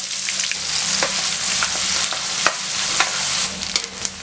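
Finely chopped small onions, about fifteen, sizzle steadily in a hot pan for a tamarind yam curry, with a few soft spoon clinks and stirring scrapes over the constant hiss.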